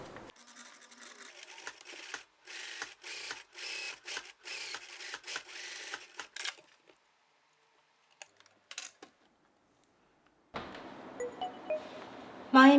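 A sewing machine stitches across scrap fabric in short, quiet bursts of rapid clatter separated by pauses, near and soft, then a louder run of stitching toward the end.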